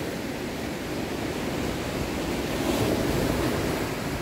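Ocean waves wash onto an empty beach, a broad, steady roar of surf with a slight swell toward the end, mixed with some wind buffeting and no voices.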